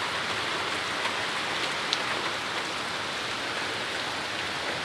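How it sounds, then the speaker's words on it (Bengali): Steady rain pours over a wooded plantation, a dense, even hiss of drops on leaves and the ground that holds at one level throughout, with one faint patter standing out and no one talking. "আল্লাহর রহমতের বৃষ্টি হচ্ছে"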